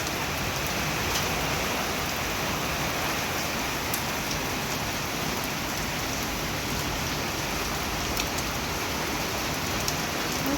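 The first heavy monsoon rain pours in a dense, even downpour, a steady unbroken hiss close by with no voices.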